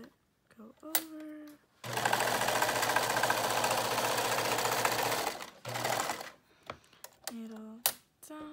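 A sewing machine runs in one long, loud, steady burst while stitching a two-layer cotton mask, with a person speaking briefly before and after the run and short mechanical knocks around it.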